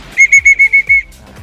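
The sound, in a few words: large blue pigeon whistle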